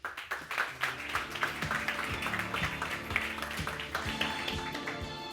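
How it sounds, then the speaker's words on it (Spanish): Audience in Madrid applauding a speaker at a book presentation: a moderate, steady run of many claps with a faint low tonal hum underneath, no voices. "Así que un aplauso para Francisco Romero."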